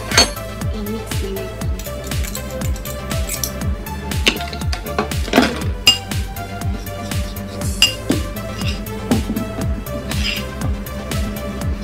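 An egg being mixed in a bowl for chicken nuggets, with rapid, steady clinks and scrapes of a utensil against the bowl in a fast rhythm, close and loud, with kitchen background behind.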